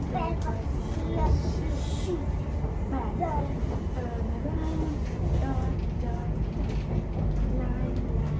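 A train runs through a busy London railway station, a steady low rumble and rattle of carriages beneath a crowd's murmur and nearby voices, continuous throughout.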